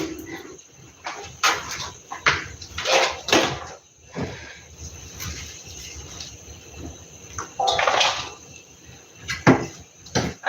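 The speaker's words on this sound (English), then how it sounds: "There's some water in here. Let me drain this out." Water being poured and drained out of a cooking pot in a home kitchen, in irregular bursts of splashing and trickling, with clanks of the pot between pours and some quieter gaps.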